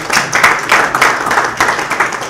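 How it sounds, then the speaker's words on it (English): Dense applause from an audience at a transitional justice policy symposium, many hands clapping steadily at fairly loud, even intensity throughout the short burst. "an extra round of applause to both Anna and Cora"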